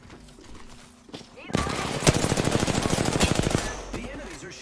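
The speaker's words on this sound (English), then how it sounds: "The enemies are shooting at me." Rapid automatic gunfire from enemy soldiers in the World War II shooter game Hell Let Loose bursts out loud and close in a long rattling volley, with quieter shots and movement before and after.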